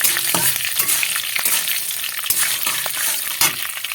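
Slit green chilies hit hot oil and sizzle loudly, a dense crackling hiss with stirring clatter and a few sharp pops close by, while making a Bengali-style idli dish; no speech.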